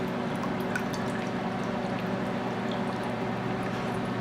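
Soy sauce poured into a bowl to start a marinade for thin-sliced sirloin, a short steady liquid pour with light splashing throughout, close and moderately loud, without speech.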